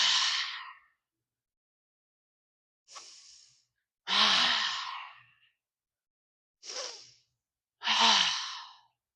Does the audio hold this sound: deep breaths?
yes